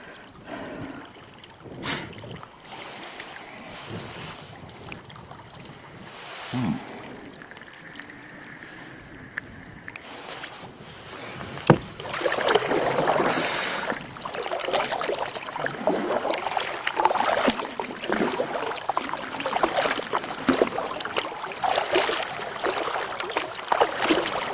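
A kayak drifts on a tidal current in a creek near high water, with no paddling; soft water lapping and wind rustle run throughout, growing fuller and more continuous in the second half.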